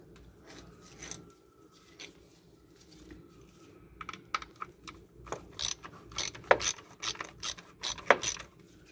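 A ratchet loosens a T25 bolt on the radiator fan of a 2008 BMW 328i, first as quiet fiddling, then a quick series of sharp clicking pawl strokes that grow louder and more frequent.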